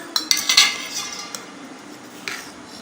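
A metal spoon stirs wheat semolina dosa batter in a bowl, giving a few quick scraping clinks near the start and then softer sporadic taps, close and clear with no voices.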